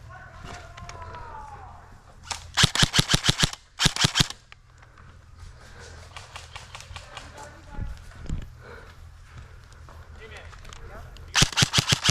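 Airsoft guns fire during a search-and-destroy game outdoors, with loud rapid bursts of shots near the start and again at the end, scattered single shots in between, and quiet voices and movement underneath.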